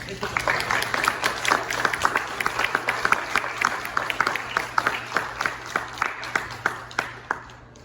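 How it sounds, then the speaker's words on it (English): A debate audience claps for the debaters after a heated final rebuttal round, a steady stream of sharp, distinct hand claps at moderate distance over about eight seconds, with a low hum beneath and no talking. "Let's give these guys a round of applause."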